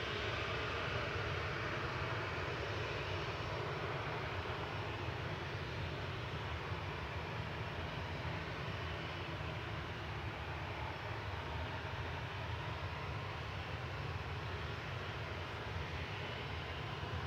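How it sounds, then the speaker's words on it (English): A SunExpress airliner bound for Antalya departs runway 23 left at Manchester Airport, heard as a steady, broad jet engine roar that holds loud and even for the whole stretch, with no voices over it. "Departing on 23 left is going to be SunExpress to Antalya,"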